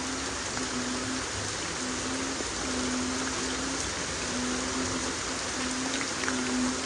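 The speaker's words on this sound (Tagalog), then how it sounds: "lakas ng ulan" A constant rush of rain fills the background while frogs call in a regular, repeating croak close by.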